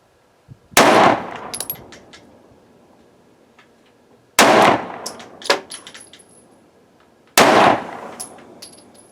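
Three loud, sharp gunshots from a Taurus G3c pistol at an outdoor shooting range, spaced several seconds apart, each followed by brief metallic pings and a short fading echo.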